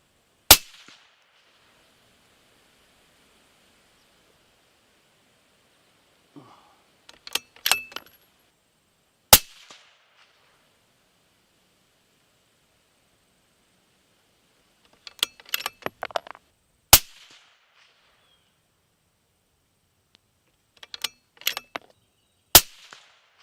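6.5 Creedmoor rifle fired at targets 100 yards away: sharp, loud cracks in scattered groups of one to three over about twenty seconds, each decaying quickly into near silence between bursts.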